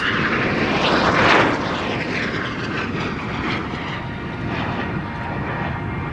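A display aircraft flies over at the Royal International Air Tattoo, a loud, continuous engine roar that swells and shifts in pitch as it passes, with wind-like broadband noise throughout.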